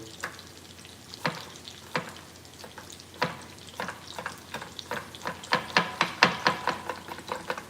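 Minced garlic fries in a pan with a soft sizzle under clinking, scraping stirs that start sparse and grow quicker and denser toward the end.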